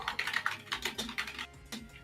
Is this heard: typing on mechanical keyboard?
yes